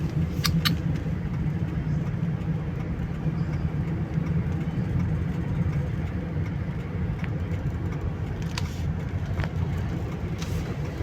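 City road traffic in Makati heard from inside a car, a steady low rumble of engine and road noise throughout with a few faint high clicks, no talking.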